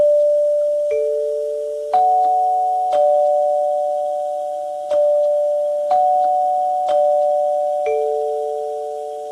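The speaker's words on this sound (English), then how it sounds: "Not only is it a really pleasant sounding chime all on its own" A NuTone Model L72N 8-note recessed bar door chime rings out, with clear, bell-like tones struck in sequence about once a second. Each note lingers and overlaps the next, sounding close and clean with no voices.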